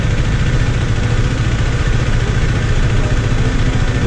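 A Husqvarna Svartpilen 401 motorcycle idles close by, its engine a loud, steady low rumble that runs unbroken throughout.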